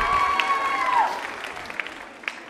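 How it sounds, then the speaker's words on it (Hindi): Audience at a women's club New Year quiz show claps for a participant, applause fading out over a couple of seconds after a sustained tone, with scattered final claps. "जोरदार तरीके से तालियां जोरों से बजाइए आप।"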